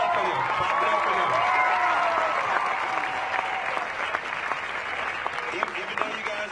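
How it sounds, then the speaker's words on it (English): A protest crowd in Denver claps steadily for several seconds, dense and sustained, with scattered louder claps and a few voices and whoops mixed in. "Clap it up for them."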